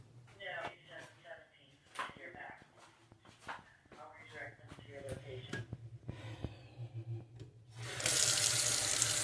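A kitchen tap runs into a sink while something is rinsed. A voice and light clatter come first, then the water bursts in as a loud, close, steady rush at the end.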